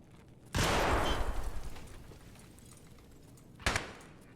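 A grenade blows up in SPT Tarkov with a loud, broad blast and a rumbling decay lasting a couple of seconds over faint background noise, followed by a shorter sharp bang a few seconds later.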